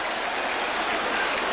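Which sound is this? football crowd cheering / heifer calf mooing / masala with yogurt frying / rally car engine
football crowd cheering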